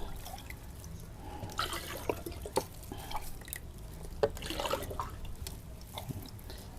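Liquid being taken from a mushroom culture, faint drips and small splashes of water with a few light clinks, close by in a quiet room.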